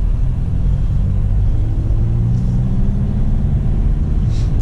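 Car cruising through the streets of Voronezh, heard from inside as a steady low engine and road rumble with slight gear-change shifts, continuous throughout, no talking.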